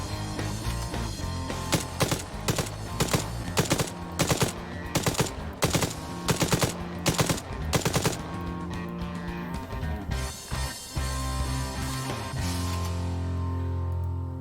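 AK rifle fire in Arma 3 S.O.G. Prairie Fire, loud repeated bursts of rapid automatic shots at close range, each burst separated by short pauses, trailing off into quieter ambient game sound.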